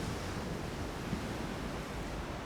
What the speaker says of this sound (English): It feels and sounds like an avalanche when the waves break.